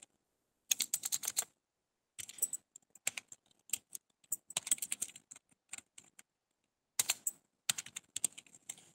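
Keys of a computer keyboard are typed in short bursts with silent gaps between them while text is entered into an MS Word document. The clicks are close and crisp in a quiet room.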